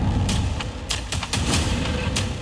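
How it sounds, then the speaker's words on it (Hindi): Repeated sharp bangs of vehicles exploding burst out one after another over a dense, roaring low rumble on a Delhi road, loud and close, like a series of explosions. "एक के बाद एक यहाँ पर धमाकों की आवाज सुनी जा रही है"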